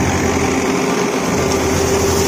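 A Punni thresher driven by a tractor's power take-off runs at full speed in a field, producing a loud, steady mechanical drone with a constant whine and no pauses.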